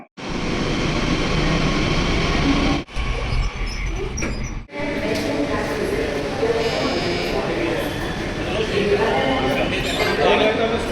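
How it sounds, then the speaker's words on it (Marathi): A metro train arriving at a station in Pune, with a loud continuous rumble and rail noise filling the scene, briefly dipping twice, while people talk over it. "चला आली मेट्रो"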